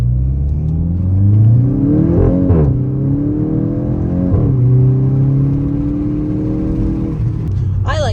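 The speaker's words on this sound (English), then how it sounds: "We're gonna get some DSG farts in there for you." A Volkswagen MK8 GTI with an AWE Tuning exhaust accelerates through DSG gearshifts, each upshift cutting in with a sharp exhaust fart. The engine rises and drops in several pulls, heard loud from inside the car with a window down, and a voice briefly calls out.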